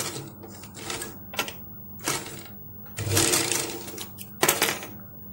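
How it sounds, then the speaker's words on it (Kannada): Sewing machine stitching a cloth baby diaper, running in several short bursts of rapid mechanical whirring separated by brief pauses, fairly close and clear. "ಈ ಸೈಡ್ ಇಂದ ಫುಲ್ ಸ್ಟಿಚ್ ಮಾಡ್ಕೊಂಡ್ ಬಂದಿದೀವಿ"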